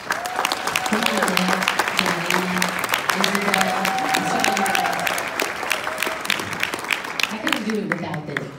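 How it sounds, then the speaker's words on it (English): An audience in a room gives a team of multilingual program staff a round of applause, dense sustained clapping with cheers and voices mixed in, lasting the full stretch and tapering slightly at the end. "we need to give them a round of applause"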